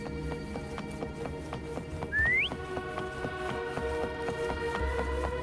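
A short rising whistle calls the companion Foam in the game Wuthering Waves, sounding once over a busy bed of game music, plodding hoofbeats and ambient effects.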